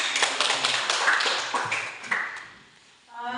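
A class applauds a group after its presentation: a dense patter of many hands clapping close by that fades out over a few seconds, with a brief tonal sound at the very end.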